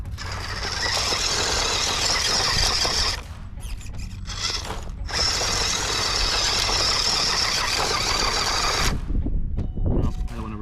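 WPL C14 RC crawler running in second gear, a steady high-pitched electric motor whine with gear noise that briefly drops out around three and five seconds, then cuts off near the end.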